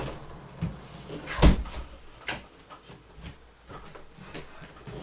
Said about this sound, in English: I'm just going to shut my window